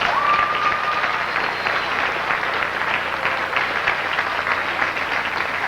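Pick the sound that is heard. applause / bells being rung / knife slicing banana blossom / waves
applause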